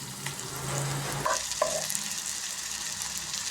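Tomato and onion fry in a pan for egg bhurji, giving a soft continuous sizzle with a couple of brief stirring scrapes, close and quiet, with no voices.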